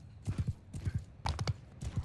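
Horse hooves clopping in the medieval battle game Mount & Blade 2 Bannerlord, a close, steady galloping rhythm in repeated bursts of three or four thuds, loud and alone with no talk.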